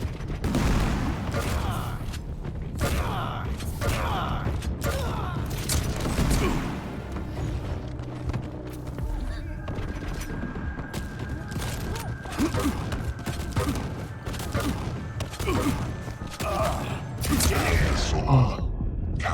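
Super shotgun blasts from the Quake Champions arena shooter fire in dense bursts among constant loud gunfire, mechanical clanks and game effects, with a voice talking over the action.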